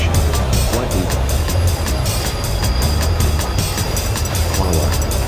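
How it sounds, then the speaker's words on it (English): A subway train runs with a loud, steady rumble and rhythmic clattering from the wheels, close and continuous, with a faint high whine above it and no voices. "before the subway train stops to the other station"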